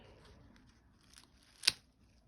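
A pair of scissors makes one sharp snip through the stalk of a harvested garlic bulb, a brief crisp cut standing out against a quiet background.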